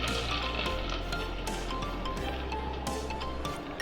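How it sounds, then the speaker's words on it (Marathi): Hot tempering of garlic reddened in oil with chilli powder and coriander is poured over khichdi, giving a steady, close sizzling hiss with small crackles and clinks and no talk. "ही फोडणी आपण खिचडीवर ओतूया"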